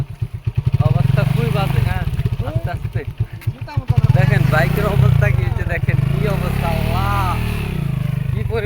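A motorcycle engine revs and labours through deep mud on a badly broken red-earth road, close and loud, with surging throttle bursts while someone talks and calls out over it.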